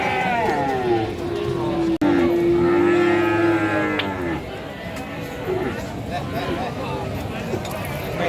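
Cattle at the Tuban livestock market in Indonesia moo loudly and long nearby on a rainy-season day, one deep drawn-out call standing out above a busy crowd murmur and people talking.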